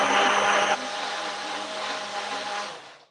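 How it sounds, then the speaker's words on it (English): A kitchen blender runs loud and steady while making meatless chili, with a harsher burst at the start before settling to a constant whirring drone that fades out at the end. "Because let me tell you something, Kathleen, when we put blenders on in the show, just feel free to move along with it."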